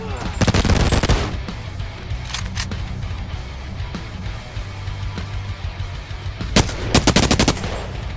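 Gunfire in the Boneworks VR video game: rapid automatic bursts at the start and again near the end, loud and close, with quieter game noise between.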